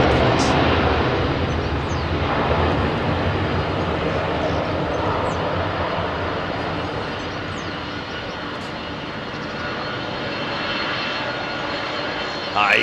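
A steady, broad rumble of a Boeing 767 rolling along runway 27R at London Heathrow, heard from a distance as a constant roar with a faint hiss on top.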